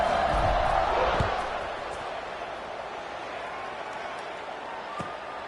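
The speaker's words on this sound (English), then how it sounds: "this crowd is buzzing after that last score" Stadium crowd at a college football game, Vanderbilt against Florida, buzzing after a touchdown, a broad steady roar that eases slightly after the first second, with a commentator talking over it.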